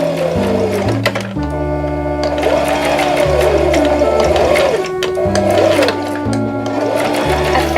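A sewing machine stitches soft fabric for a pony stuffed toy, a steady loud mechanical whir running in bursts with brief pauses between seams.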